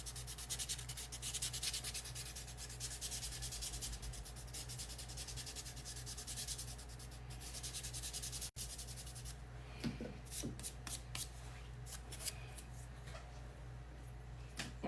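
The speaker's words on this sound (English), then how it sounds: "So, while I'm at it, I might as well just go ahead and sand this bill too." A wooden piece being sanded by hand with fine-grit paper, a continuous close scratchy rubbing that runs steadily, then shifts into shorter, more broken strokes.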